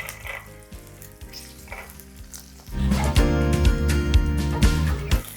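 Green chillies, dried red chillies and a handful of peanuts fry in a pan for a Telugu cucumber chutney, a steady sizzle that grows louder and fuller halfway through as more goes in, with soft scraping and stirring and no talk.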